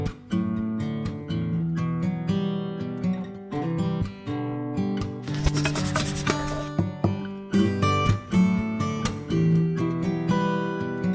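Rubbing and rasping while a brake caliper pin on a 2020 Maruti Suzuki WagonR is cleaned by hand, a steady run of scraping strokes with a denser burst midway, close and fairly loud, with no talk.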